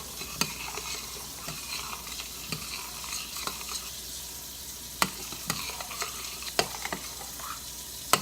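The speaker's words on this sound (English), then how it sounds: "So it's starting to bubble right now. So let's take a look. I'm gonna stir it." Flaxseed gel bubbling in a pot while a spoon stirs it: a soft simmering hiss under repeated sharp clicks and knocks of utensil against pot, irregular and close.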